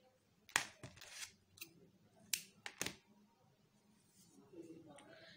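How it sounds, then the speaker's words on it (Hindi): Scissors snip through crochet thread while a bow is being made, a few sharp close cuts and clicks under quiet speech in the room. "धागे को निकाल के यहाँ से हम इसको काट देंगे"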